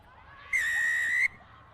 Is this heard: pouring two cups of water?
no